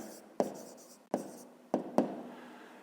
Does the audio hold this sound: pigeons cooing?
no